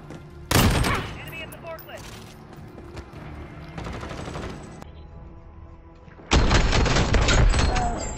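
Modern Warfare gunfire in a 2v2 match: loud bursts of rapid automatic fire, a sharp opening blast, then scattered shots and a heavy sustained volley near the end, with players talking between shots.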